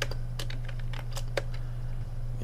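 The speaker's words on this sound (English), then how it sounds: "Tired of typing capital letters" Clicky keystrokes on a computer keyboard during assembly-language programming, irregular taps spread across a couple of seconds over a steady low hum, fairly close and alone without talk.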